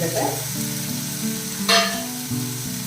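Tomato sautéing with snake gourd seeds in a pan gives a steady, close sizzle with a brief louder hiss of stirring partway through.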